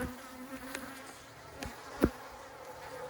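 Honeybees working comb in a split colony hive, a soft continuous insect buzz running steadily throughout, with a few brief clicks or knocks standing out, one sharper tap near the two-second mark.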